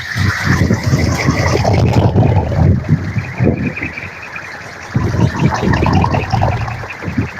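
Strong whirlwind gusts buffeting the microphone outdoors around a kolecer, the traditional Sundanese wooden windmill toy, giving a loud, continuous rumbling roar that swells and eases over several seconds.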